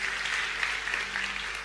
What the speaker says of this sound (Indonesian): Berikan tepuk tangan yang paling meriah bagi Tuhan sekali lagi